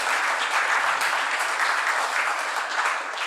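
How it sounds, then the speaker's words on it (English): An audience claps warmly to welcome a speaker at a talk, dense steady applause filling the room throughout. "let's give him a warm applause and welcome"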